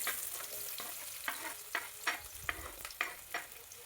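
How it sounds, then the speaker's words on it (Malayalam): Chopped onion, green chilli, garlic and ginger sautéing in oil in a pan, a soft steady sizzle punctuated by a regular run of sharp spatula scrapes and taps against the pan. "ഇനി ഒരു പാനിലേക്ക് എണ്ണ ഒഴിച്ചതിന് ശേഷം ഈ ഉള്ളി അരിഞ്ഞത്, പച്ചമുളക്, വെളുത്തുള്ളി, ഇഞ്ചി ഇതെല്ലാം ഇട്ടൊന്ന് വഴറ്റിയെടുക്കാം"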